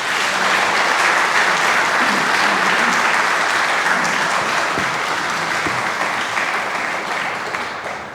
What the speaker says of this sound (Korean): 목사님 나오실 때 큰 박수로 환영하시겠습니다